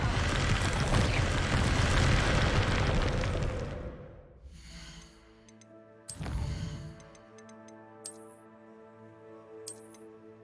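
Confringo fire spell cast in the Hogwarts Legacy video game: a loud fiery blast that roars for several seconds, then fades into a tonal ringing decay. Sharp chiming pings follow over a steady hum.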